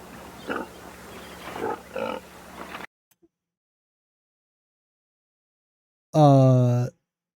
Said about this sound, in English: There's some creepy ass pigs.